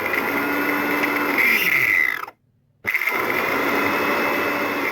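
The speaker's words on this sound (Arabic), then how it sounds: "انا بالنسبه لي هطحنهم في المطحنه بتاعت التوابل" An electric spice grinder whirs loudly as it pulverizes sesame seeds into flour, a steady high motor drone running in bursts, cutting to silence briefly, then starting up again.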